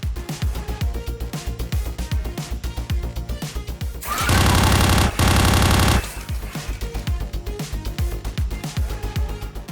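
Rapid bursts of machine-gun style gunfire play as a sound effect during a Warhammer 40k Tyranids versus Space Wolves tabletop battle, with steady rattling volleys and a louder sustained blast in the middle.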